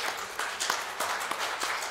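Church congregation giving a hand clap of praise, a thin spatter of claps from a modest crowd, fairly faint and distant, lasting a couple of seconds.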